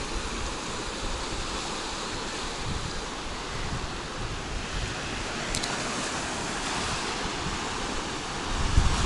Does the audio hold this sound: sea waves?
yes